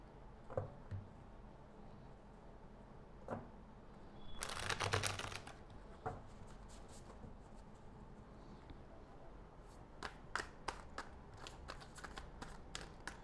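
Tarot cards being shuffled by hand during a reading, heard as a soft papery burst of riffling around the middle, then a run of light separate card snaps and taps toward the end, close and quiet.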